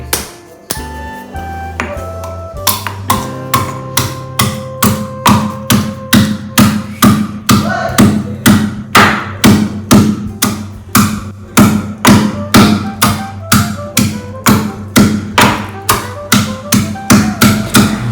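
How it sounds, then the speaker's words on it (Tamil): Ginger and garlic are pounded on a stone, a steady run of sharp, ringing knocks about two per second, close and loud, after a few slower strikes at the start. "இஞ்சி பூண்டு ஓகேங்களா இது நம்ம நல்லா இந்த கல்லில் போட்டு குத்தி எடுத்துடலாம்"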